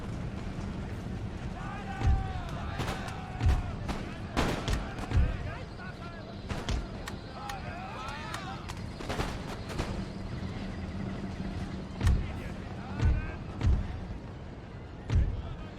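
Cannon artillery in Empire: Total War during a Prussian campaign battle: repeated deep booming shots every second or so over a steady battlefield din, with a voice talking throughout.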